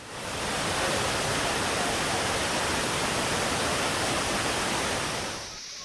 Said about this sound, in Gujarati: જેના કારણે તીરથગઢ ધોધ વહેતો થયો